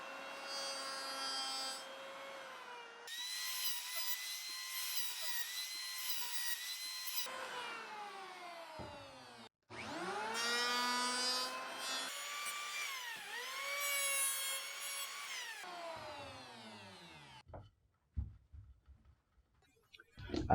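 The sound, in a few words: router beveling the edge of a wooden board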